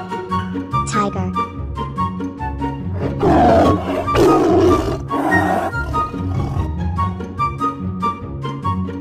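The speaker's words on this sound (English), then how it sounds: "Tiger." A tiger roars over light cartoon game music in a children's animal-matching game. A few loud, rough roars come in the middle, with the music continuing throughout.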